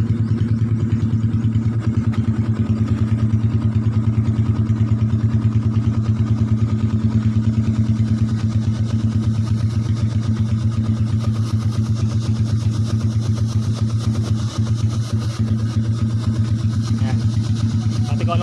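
An X1R/Sniper motorcycle rebuilt from 135cc to a 150cc 57mm block with a racing cam and racing CDI idles at a high idle, a close, steady, even thrum that runs unbroken throughout.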